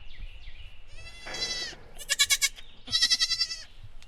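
Baby meat goats in new goat pens bleat close by in three distinct calls, the last two quavering and wavering, with quiet rustling and no talk in between.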